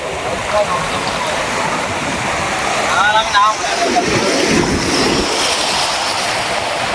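Sea waves wash in steadily at a beach near Nagoor, a broad continuous surf hiss that stays fairly loud throughout, with a voice heard faintly over it near the middle.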